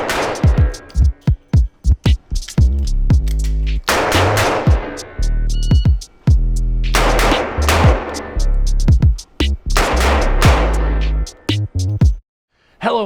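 Three sharp, loud gunshots from a SPOHR L562 .357 revolver fired at an outdoor range, each a broadband crack with a short ringing tail, spaced about two to four seconds apart, plus a few further bursts of similar reports.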